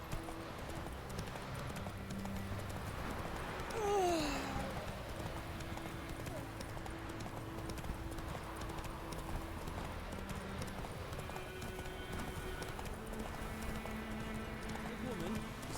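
Roach gallops in The Witcher 3, with a rapid, steady drumming of hooves close up throughout, a brief whinny early on, and voices talking over the ride.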